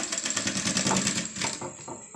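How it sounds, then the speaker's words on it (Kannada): A sewing machine fitted with a piping foot stitches in a fast, steady whirring run that slows and stops partway through, close and loud with no talk. "ಈ ರೀತಿ ಬೇಕಾದರೆ ನೀವು ಸ್ಟಿಚ್ ಮಾಡ್ಕೋಬೋದು"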